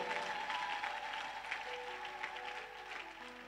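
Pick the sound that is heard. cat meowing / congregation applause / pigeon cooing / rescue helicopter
congregation applause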